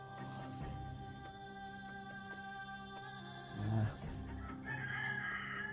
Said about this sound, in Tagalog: May manok ihalas yun.